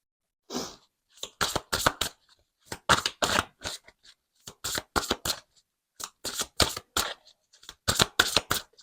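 Tarot cards are shuffled and drawn in close, crisp bursts of riffling and snapping, grouped in quick clusters with short silent gaps between them.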